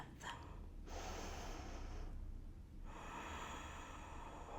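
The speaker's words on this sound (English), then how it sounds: "Take a big breath." A deep breath during a neck yoga stretch, heard as a slow inhale and a longer exhale, soft and close, without talking.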